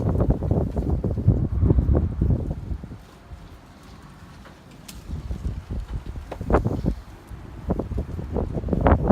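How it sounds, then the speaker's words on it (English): Breezy outdoor wind gusting and buffeting a microphone outside a shop, rising and falling in strong rumbling waves with a brief calmer lull midway. "It's breezy out here, isn't it?"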